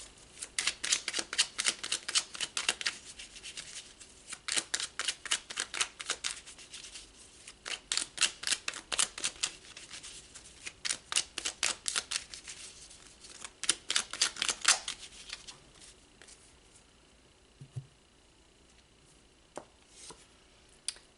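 Tarot cards shuffled in repeated riffling bursts, each a rapid flutter of papery clicks, coming in several rounds over the first fifteen seconds before settling into quiet, with only a couple of faint soft taps afterward.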